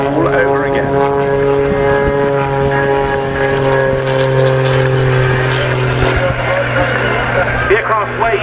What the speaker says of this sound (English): The aircraft weighs just around 700 kilos, so it's got a tremendous power-to-weight ratio